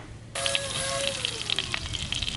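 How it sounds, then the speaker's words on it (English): Bacon hits a hot iron skillet and starts a sudden, steady sizzle and crackle that stays up close and continuous with small popping bursts, with faint talk in the background. "The bacon is in the skillet."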